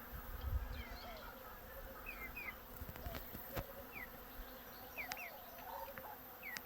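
Bees buzzing steadily around corn plants as they collect pollen, a continuous insect drone with occasional louder passes close by and faint bird chirps in the background.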